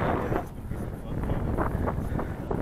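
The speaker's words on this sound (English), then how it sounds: "it's a bit windy" Steady low wind rumble buffets the microphone throughout at a model aircraft flying field, with faint voices underneath.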